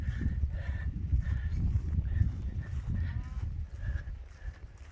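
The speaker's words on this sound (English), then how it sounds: "Oh, that cow's pissed at me." An agitated cow near an Appalachian Trail path in Virginia, heard as low snorts and grunts among livestock shuffling over a rough, steady outdoor background, with faint repeated higher calls and no clear talk.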